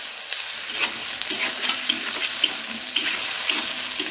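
Tomato paste fries and sizzles steadily in a pan while it is stirred, with a scraping stroke returning roughly every half second, close and fairly loud with no voices.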